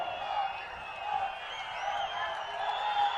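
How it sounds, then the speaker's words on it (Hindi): Rally crowd in Chamba, Himachal Pradesh, for Prime Minister Narendra Modi applauds and cheers steadily, a broad, continuous wash of clapping with occasional whoops, with no talk over it. "जोरदार तालियों के साथ अभिनंदन"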